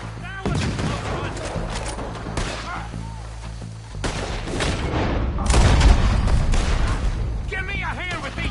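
Gunfire in Red Dead Redemption 2 comes as scattered loud, sharp shots and echoing cracks during a frontier shootout, with shouting voices mixed in throughout.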